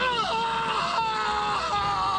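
Anguished, wailing scream of a person running into a house in a film set in the Borneo jungle, a sustained high cry with wavering pitch filling the whole moment, close and loud.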